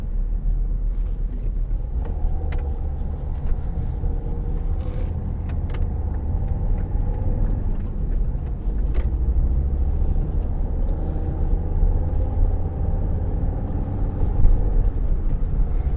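Steady low rumble of a car driving along a road from Reigate to Dorking, engine and tyre noise constant throughout, heard from inside the vehicle.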